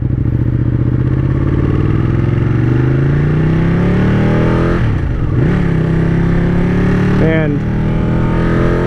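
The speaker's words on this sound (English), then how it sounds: "So I'm on my buddy's Ducati 899." A Ducati 899 motorcycle ridden on the road behind a Tesla, its engine droning and rising in pitch as it accelerates, with a brief dip and a quick rev near the end, loud and close, with a voice speaking briefly.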